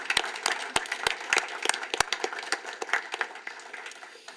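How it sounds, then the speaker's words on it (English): Scattered applause from a small audience at a school district board meeting, honoring the employees of the year; sharp individual claps ring out fairly close, thinning toward the end. "Let's give our employees of the year a round of applause."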